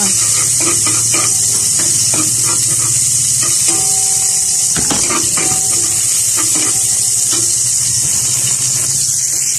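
Garlic and red onion sautéing in a pan for adobo: a loud, steady hiss of frying with occasional scrapes and taps of a utensil stirring through, heard up close.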